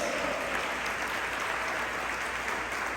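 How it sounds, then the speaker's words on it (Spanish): A church congregation applauds together, steady dense clapping that holds at an even level for the full stretch, fairly soft and somewhat distant, with no talking over it. "Desen un aplauso a todos ustedes."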